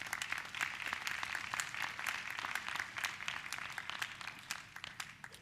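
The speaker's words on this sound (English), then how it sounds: "Would you please give them a round of applause?" A crowd at a university Founder's Day program claps for inductees. The applause is fairly faint and distant, a steady patter of many hands that thins slightly toward the end.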